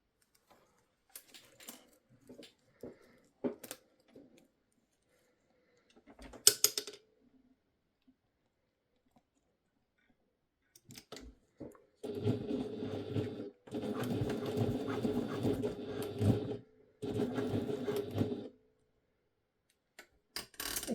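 A sewing machine stitches across the top of a fabric pouch in three close bursts of whirring, separated by brief pauses, after quieter handling sounds and silence.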